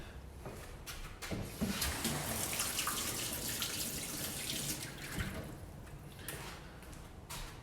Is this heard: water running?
yes